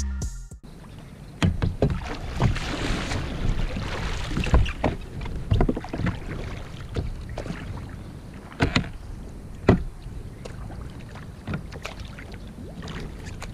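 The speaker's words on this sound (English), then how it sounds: "Today I'm at a local lake, just paddling around, getting my exercise." Canoe paddled on a calm local lake with a Bending Branches Navigator paddle, giving close, irregular water splashes, drips and hull knocks over soft wind noise.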